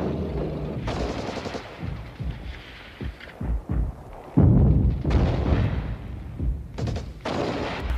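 Artillery and machine gun fire from a war documentary on the Six-Day War, with loud irregular bursts and booms that swell and fade over a dense rumbling background.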